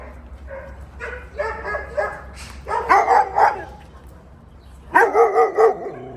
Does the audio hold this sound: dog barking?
yes